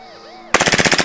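A WE Glock 18c Gen3 gas airsoft pistol fires BBs on full auto, a loud close burst of about ten rapid, evenly spaced shots that cuts off sharply after a quiet start.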